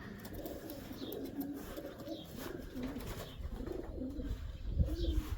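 Racing pigeons in a sunny loft give soft, repeated low coos over a faint background murmur, the calls rising and falling at close range with no one speaking.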